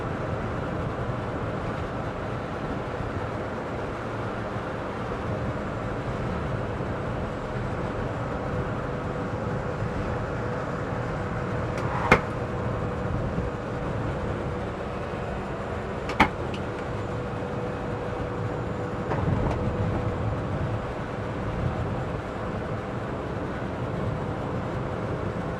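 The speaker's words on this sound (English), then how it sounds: "You're getting a bit of wind noise now" Steady broadband wind and road roar inside a Citroen Ami electric car driving in the rain, a constant hiss and rumble with a couple of brief sharp knocks.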